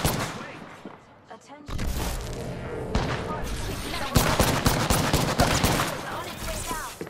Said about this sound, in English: How is she just shooting me?